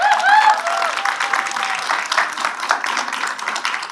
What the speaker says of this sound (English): another round of applause for all of our volunteers